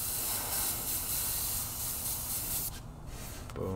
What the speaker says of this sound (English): Maybe just spray a little layer here.